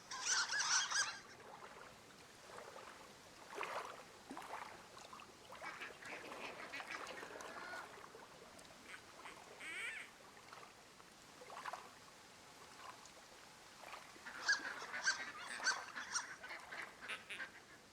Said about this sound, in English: it's like a squeaky duck